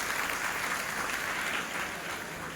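Crowd applause at a Nationalist Congress Party public event in India, steady dense clapping from many hands filling the whole stretch without a break.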